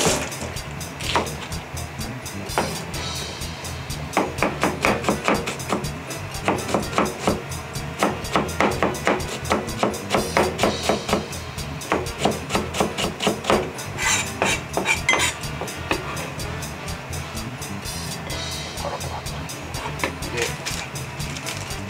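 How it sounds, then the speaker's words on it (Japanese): A knife chopping myoga on a cutting board, rapid close knocks in quick runs with short pauses between batches, a faint voice in the background. "あとは薬味を切っていきたいと思"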